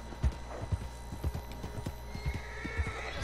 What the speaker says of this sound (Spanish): Este caballo ya no puede más.